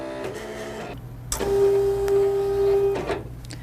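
A Silhouette vinyl cutting machine cuts a design, giving a motorized whir with a sustained steady tone between short clicks and shifts of the carriage, close and moderately loud, with no voice.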